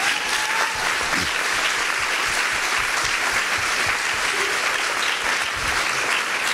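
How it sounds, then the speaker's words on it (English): Loud, continuous audience applause at a talk, dense clapping from a full room that stays steady from start to finish without speech over it. "Let's give him a round of applause."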